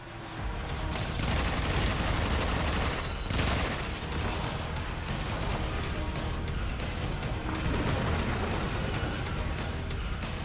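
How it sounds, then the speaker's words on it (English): Heavy, continuous gunfire from many enemies in the sci-fi shooter Warframe, a dense loud barrage with booms running nonstop throughout. "I've never had so many people shooting at me"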